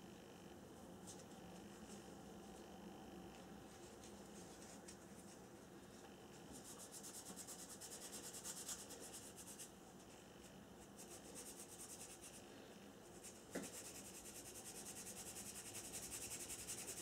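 Steady rasping strokes of sandpaper on a model aircraft part for a Globemaster III build, close and fairly quiet, continuing with a brief knock partway through.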